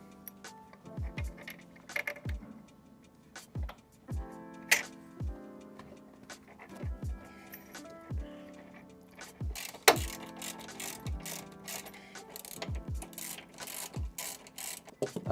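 Bolts are threaded by hand into plus nuts set in a Sprinter van floor: quiet, close metallic clicking and ratcheting ticks come in irregular bursts with small clinks of hardware, and no voices.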